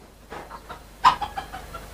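A Serama hen clucks in a few short, soft calls close by in a backyard coop, with quiet gaps between the sounds and one slightly louder cluck near the middle.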